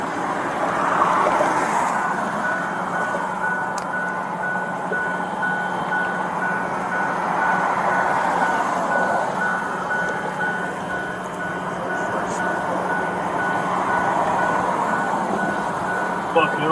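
A tow truck's reversing alarm beeps repeatedly during a roadside confrontation, the tones sitting under raised voices and steady traffic noise throughout.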